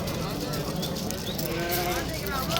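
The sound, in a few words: sheep bleating at a livestock market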